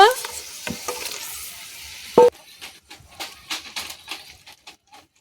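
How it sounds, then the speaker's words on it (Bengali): Koi fish go into boiling curry gravy with a loud hiss and sizzle that fades, followed by quieter bubbling and soft scattered knocks in the pot. "ঝোল ফুটে গেছে, কই মাছগুলো দিয়ে দেব।"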